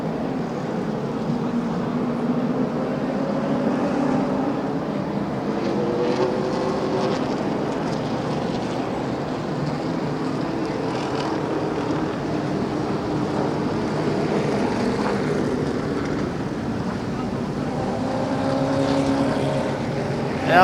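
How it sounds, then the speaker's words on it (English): Race cars in a feature race at Michigan International Speedway in 2014 roar around the track as a continuous engine drone heard from a distance, with pitch rising and falling as the cars pass. "Two racers racing hard."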